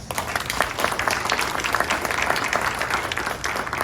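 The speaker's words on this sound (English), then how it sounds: "Let's give them all a round of applause" A crowd at a food technology pitch competition in Chicago applauds steadily, dense clapping from many hands filling the room at an even, loud level throughout.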